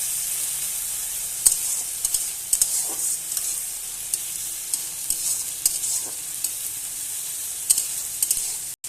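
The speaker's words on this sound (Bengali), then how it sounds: "চিংড়ি মাছ আমি রান্না করেই রেখেছি, এটা এবার আমি পেঁয়াজের মধ্যে দিয়ে দেব।" Prawns fry with onions in a pan, giving a steady close sizzle with occasional stirring clicks and scrapes throughout.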